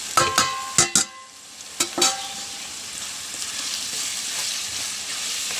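Onions frying in hot oil with chili, coriander and turmeric powder for a fish curry, a few sharp clatters of a spoon stirring at first, then a steady close sizzle alone.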